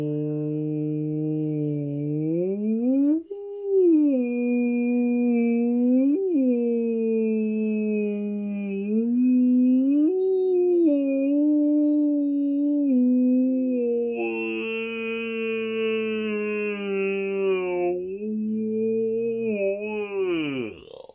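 A human voice imitates a whale call, holding long, low moaning tones that glide up and down and break into higher wails, alone and unbroken for about twenty seconds.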